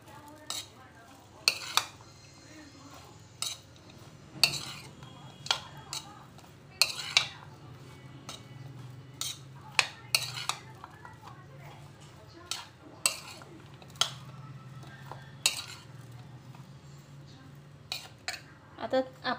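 A spoon scrapes and clinks against a pan while a spice mixture with amchur powder and ajwain is stirred, with a faint sizzle underneath; the irregular metallic taps repeat over and over, close and fairly sharp.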